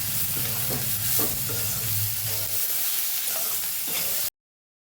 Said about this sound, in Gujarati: આપણે પહેલાં સાતડી લેવાની હળદરને તેલમાં